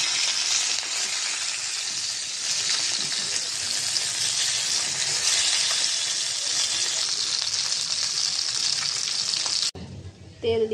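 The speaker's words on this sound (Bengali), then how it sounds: "মাছটা একটু ভাজা হয়েছে," Shing fish, turned over partway through, fries loudly in hot oil with a dense, even sizzle and crackle for most of the stretch, then cuts off to a brief quieter moment with faint handling noises.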